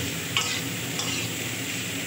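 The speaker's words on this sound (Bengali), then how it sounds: "এগুলো এবারে তেল, পাঁচফোড়ন আর পেঁয়াজের সঙ্গে ভালো করে একটু ভেজে নেব।" Spiny gourd and potatoes fry quietly in oil with panch phoron and onion, a soft steady sizzle with a couple of light stirring scrapes.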